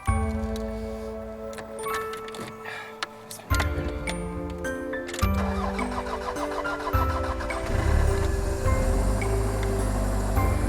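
Car engine in Arctic snow in Luleå, Sweden: clicks and ticking, then the starter cranks and the motor catches, settling into a loud, close idle that builds and holds steady.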